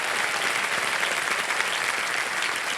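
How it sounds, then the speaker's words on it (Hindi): A studio audience on a television quiz show gives a dense, even round of applause that fills the room, continuous throughout with no voices over it. "थोड़ा एक बार फिर से जोरदार तालियां बज जाए हमारे परिवारों के लिए।"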